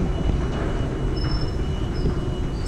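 A train rumbles past loudly and continuously in Hollywood, with a heavy low roar and a faint high squeal of wheels.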